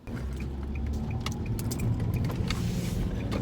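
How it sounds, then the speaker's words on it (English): Steady car engine and road rumble from inside a vehicle in morning traffic, a continuous low drone at moderate level with faint small jingles and clicks on top, no talking. "There is a lot of traffic this morning."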